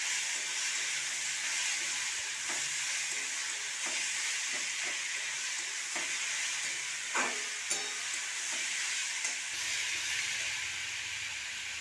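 Ridge gourd and chopped tomatoes sizzle in a pan, a steady frying hiss broken by faint intermittent taps and scrapes of stirring.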